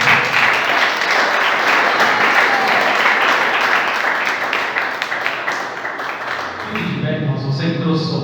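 Congregation applauding during a church service, loud, sustained clapping from many people that fills most of the stretch before tapering off as a voice begins speaking at the end.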